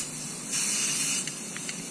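Truck bed coating sprayed from an aerosol can onto the inside of an RC car body, a steady close hiss lasting about two seconds with brief sputtering bursts near the end.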